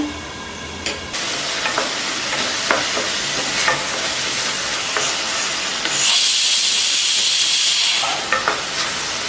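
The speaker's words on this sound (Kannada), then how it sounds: "ಒಂದು ವಿಷಲ್ ಬಂತು" A pressure cooker holding tomato gojju lets out a loud, sustained steam whistle, a bright hissing burst lasting about two seconds. Before it come steady low cooking hiss and a few sharp metallic clinks.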